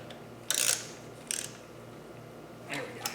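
Bolts on a VW/Audi high pressure fuel pump being run in with a ratchet, giving two short bursts of clicking, a brief burst at the end, and a quieter stretch between them.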